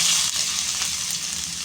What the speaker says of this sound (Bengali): এর মধ্যে আমরা কারি পাতা দিয়ে দেব এরপর এর মধ্যে দিয়ে দেব আদা কুচি